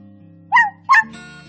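A dog gives two short, high whimpering yelps in quick succession over a low steady background hum.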